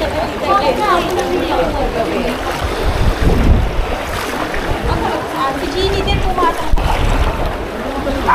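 Strong wind at sea on a flooded boat journey, a loud steady roar with rushing water and gusts buffeting the microphone throughout, with a voice speaking underneath.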